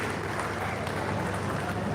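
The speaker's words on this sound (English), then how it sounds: "ladies and gentlemen, a warm round of applause for Mrs. Famewa as it comes to the podium" An audience at a professional development session in Ibadan, Oyo State, claps as a speaker comes to the podium: dense, steady applause that fills the room without a break.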